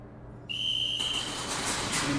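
A referee's whistle gives a single sharp, high blast of about a second to start a SpeedQB open class regional airsoft match, followed by rising crowd and field noise.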